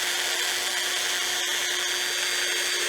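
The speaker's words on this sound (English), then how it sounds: "tuck this sandpaper or sanding disc up underneath, get my speed going the right way, and I'm going to round" Sanding disc pressed against a spinning wooden platter on a wood lathe, a steady loud whirring hiss with a constant motor tone and a couple of brief dips, no voices.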